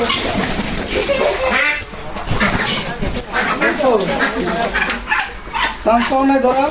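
Chinese geese honk repeatedly at close range in short bursts, mixed with other bird calls and people talking nearby.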